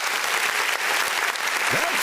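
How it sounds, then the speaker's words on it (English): Several people clap hands in a lively group during a podcast-style show, a steady loud burst of applause filling the whole moment, with a brief voice under it near the end. "I'm not clapping for that image. I'm clapping for IT."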